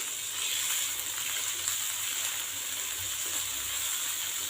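Onions sautéing in a pan for a masala omelette, a steady broadband sizzle that holds evenly throughout at close range with no voices.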